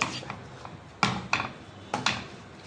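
A few sharp scraping clinks of a spoon against a metal pan while stirring a garam masala and salt mixture for prawn thoran, grouped in two short bursts, close and moderately loud.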